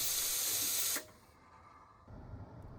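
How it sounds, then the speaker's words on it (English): Loud, steady hiss of steam from the wand of a Gemilai Owl G3006H dual-pump thermoblock espresso machine, running for about a second before cutting off sharply, leaving a quieter low rumble behind. "As soon as you open the lever, steam is ready right away."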